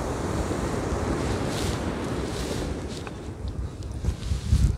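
Broadband wash of surf rolling in steadily with wind noise buffeting the microphone, a slightly stronger wave surge near the end.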